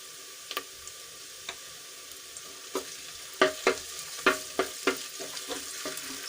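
Onions sautéing in a cooker for aloo matar pulao with ginger, garlic and chili added, a low steady sizzle broken by a run of spoon clacks and scrapes against the pan, growing busier toward the end.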